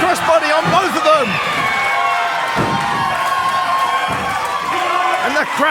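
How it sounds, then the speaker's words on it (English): A live wrestling crowd at a tag team championship match cheers and shouts wildly in a loud, sustained roar, with sharp whoops rising out of it. A commentator talks over the noise. "And the crowd going wild."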